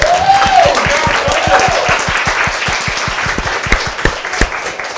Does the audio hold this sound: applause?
yes